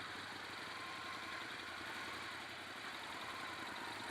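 Steady, dense engine drone from a Ducati Scrambler 1100 motorcycle while riding, mixed with wind rush, constant and loud with no pauses or speech.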